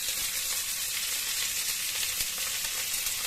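About 250 grams of onions frying in oil for egg pulusu: a dense, even hiss of sizzling fat that holds steady throughout, fairly close, with no speech or stirring knocks.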